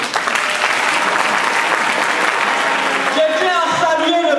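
A political rally audience bursts into dense, sustained applause and cheering, loud and close, with a voice rising over the clapping near the end.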